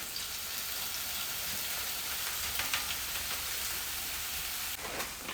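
Onions and peppers fry in a melted lard and tallow mixture for breakfast, a steady close hiss and crackle of sizzling fat running throughout without a break, no voices.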